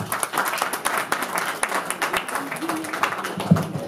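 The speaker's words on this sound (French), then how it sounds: "Applaudissez-nous, s'il vous plaît." Audience applause at a Haitian gathering: dense, steady clapping from a crowd throughout, moderately loud, with faint voices mixed in underneath.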